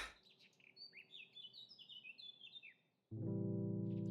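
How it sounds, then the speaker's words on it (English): Birds in the Soul of Sovereignty Prelude video game chirp in a quick, overlapping run of high tweets and trills for about three seconds, before a loud steady tonal drone abruptly takes over. "That's birds chirping."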